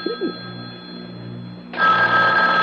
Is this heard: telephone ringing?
yes